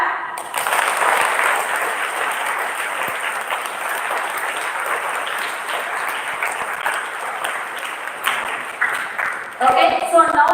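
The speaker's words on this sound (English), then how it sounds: "Give a big clap." An audience at an academy's inaugural function breaks into broad, steady clapping that runs for several seconds and then thins out, with a voice speaking near the end.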